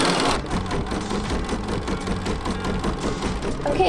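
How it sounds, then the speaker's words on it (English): An embroidery machine stitches a sequence in the hoop with a fast, steady mechanical chatter of rapid needle strokes, close and continuous after a brief opening noise. "we're going to sew the next stitch sequence to stitch the word needles"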